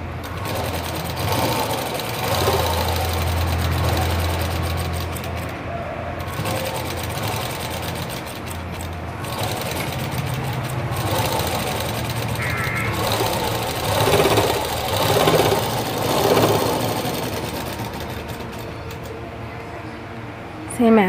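Sewing machine joining the belt seam of a lined blouse, running in a steady mechanical whir in several bursts with brief pauses, close by, while someone talks throughout.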